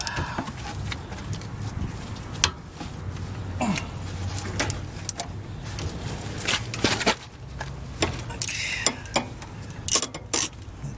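A wrench or ratchet works loose the rear brake bolts on a 2007 Acura TSX, giving a run of close, sharp metallic clicks and clanks over a low steady rumble with no talk.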